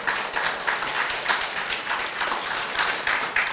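Audience applause at a Buddhist dharma talk during a Buddha's Birthday celebration service, a steady wash of many hands clapping from a crowd throughout.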